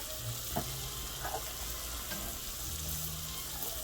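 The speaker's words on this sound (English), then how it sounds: "I'm going to add my onion and the sliced leeks" Chopped onion and sliced leeks fry in melted butter in a pan, a soft, even sizzle with a few light stirring taps, fairly quiet.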